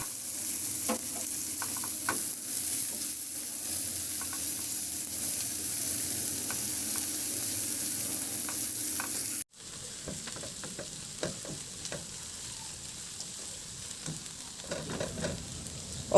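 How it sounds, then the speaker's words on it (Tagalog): Ginger, garlic and onion sauté in reduced oil in a pan, a steady close sizzle with scattered stirring scrapes; the tone shifts partway through as fresh ingredients hit, continuing with more active clinks and stirring. "igisa ko na yung luya at bawang. Maglagay din ako ng sibuyas."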